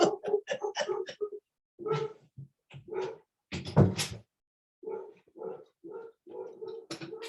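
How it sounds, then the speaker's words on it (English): A pet dog makes whimpering, cooing-like vocal sounds in several short bursts with gaps between them, moderately close and clear, with no talking over them. "you can probably hear my dog"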